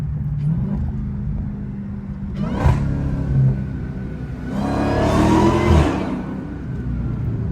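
A Dodge Hellcat engine revs while driving, a low rumble that flares into two loud, swelling revs, one brief and one longer, between quieter cruising.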